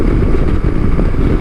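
A KTM Adventure 390 motorcycle engine runs close and loud, a steady, dense low rumble with slight pulsing and no voices over it.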